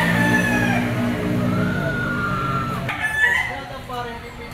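A yellow-legged gamecock bullstag crows nearby. Two drawn-out crows, one early and one near the middle, rise over clucking and low background chatter while someone talks.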